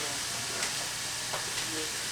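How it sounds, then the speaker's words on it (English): Onion straws fry in heavy grease with a continuous soft sizzle and hiss, a few brief pops and crackles rising out of the bubbling. "I'm frying onion straws or strings, or whatever you like to call them"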